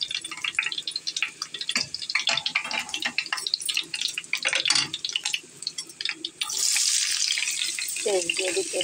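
Fish frying in oil in a home kitchen: irregular crackles and pops up close for most of the stretch, then a steady, louder sizzling hiss over the last couple of seconds.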